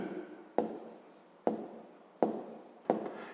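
A pen writes out a fifth-grade math answer on paper, with four sharp strokes or taps recurring about once a second, each followed by softer continuous scratching. The sound is close and quiet, and nobody speaks.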